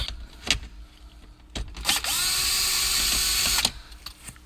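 A power tool zaps out 7 mm bolts from a Cadillac SRX dash panel, one sustained whirring run of about two seconds, close and fairly loud, framed by brief clicks and handling noises.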